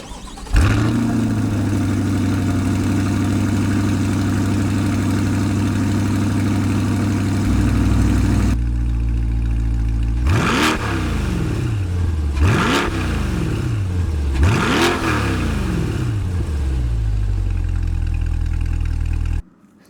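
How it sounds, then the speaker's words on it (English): A 2026 Corvette Stingray Z51 engine cranks and fires up into a loud, steady idle, then roars through three sharp revs that rise and fall before cutting off. "Let's have a listen to this thing fire up and get a couple revs in."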